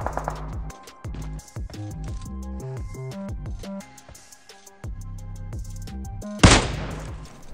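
Kar98 rifle gunshots in the mobile battle royale BGMI: several distinct, punchy shots spaced irregularly over game music, followed by one sharp, loud crack near the end.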